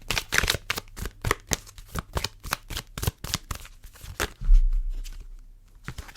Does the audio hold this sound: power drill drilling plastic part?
no